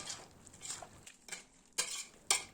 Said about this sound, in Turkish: Çok güzel bir şekilde birleşene kadar karıştırıyorum